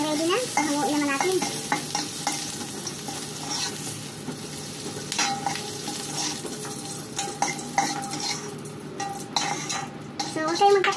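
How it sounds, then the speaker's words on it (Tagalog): A utensil scrapes and stirs food in a frying pan over steady sizzling, with clinks of metal on the pan at an irregular rhythm, close and fairly loud, no talking. "Haluin lang hanggang medyo mag-translucent"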